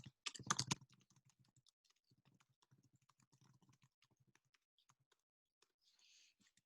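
Keys tapped on a calculator while data is entered into lists, a dense burst of quick clicks up close, then sparse faint taps.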